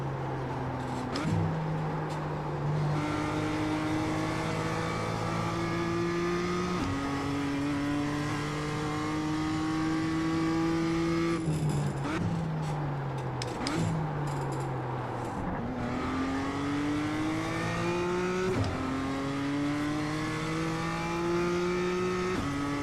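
BMW M2 engine on a lap of Tsukuba circuit, a loud continuous drone rising in pitch through each gear and dropping sharply at shifts, repeated again and again over the whole stretch.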